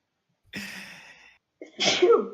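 A single short sneeze, close and fairly quiet, preceded by a soft breathy intake, in an otherwise quiet room during a game stream.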